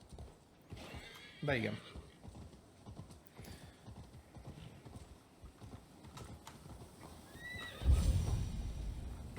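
A horse in Assassin's Creed Valhalla gives a loud whinny early on, with soft hoof clip-clops underneath, then snorts or whinnies again near the end; someone speaks briefly in Hungarian.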